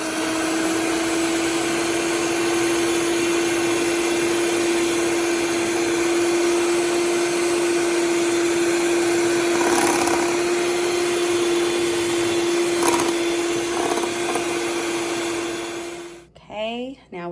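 A mixer beats egg whites with a half teaspoon of baking powder for low-carb cloud bread, a steady loud whirring drone with a fixed hum that runs unbroken for about sixteen seconds before stopping abruptly.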